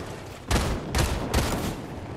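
Gunfire in a Fortnite match: three quick, loud, close bursts of shots about half a second apart, each a booming crack with a short rough tail. No talking during the shots.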